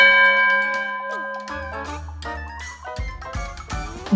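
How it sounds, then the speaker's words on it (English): Bright bell chimes ring out in a short cheerful musical passage, several struck tones sustaining and overlapping, then a few rhythmic hits close the phrase, with no voices. "bell,"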